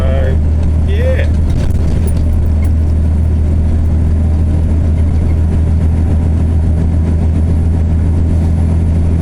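A line haul truck engine hauling 29 tonnes of steel through North Taranaki drones steadily as a low, continuous rumble throughout, with cab noise and a few faint higher sounds early on.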